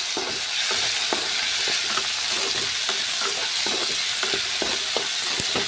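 Chopped tomatoes frying with onion and turmeric in a pan give a steady, close sizzle, broken by repeated scrapes and clacks of stirring, with no one speaking.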